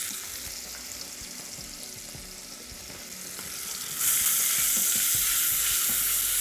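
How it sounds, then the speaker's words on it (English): Cardamom seeds and crushed black pepper sizzle in hot oil, a steady close frying hiss that jumps louder about two-thirds of the way through as they hit the oil. "once the oil is hot, remaining cardamom seeds and some crushed black pepper that goes in"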